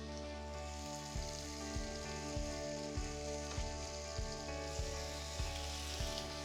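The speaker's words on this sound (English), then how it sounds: "season the other side while they're cooking on the grill pan" Chicken thighs sizzling on a grill pan, a steady loud crackling fry under a low hum, with soft regular taps or pops recurring about every half second.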